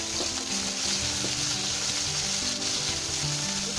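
Chopped onion frying in oil in a pan for a bitter gourd, potato and fish curry, a loud steady sizzle throughout with light stirring, no voices.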